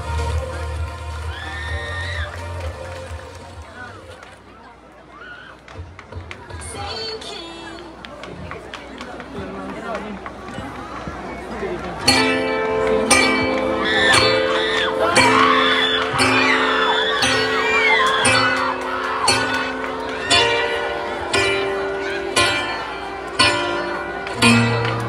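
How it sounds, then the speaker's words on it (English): A festival crowd at a grand ritual showdown cheers, whoops and shouts, with music kicking in loudly halfway through and continuing under the lively noise. "Your loudest applause, please."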